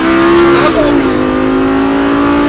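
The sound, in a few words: Lamborghini Gallardo accelerating on a race circuit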